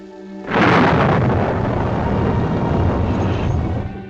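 A loud, close rumble of thunder during a storm in the Catskills, breaking in suddenly and rolling on as a heavy, sustained roar for several seconds before easing slightly.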